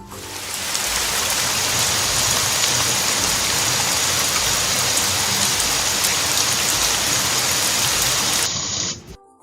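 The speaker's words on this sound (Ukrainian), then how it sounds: "Правильно, це дощ." Steady rain falls hard and continuously, a dense hiss of drops hitting surfaces, then it stops abruptly near the end.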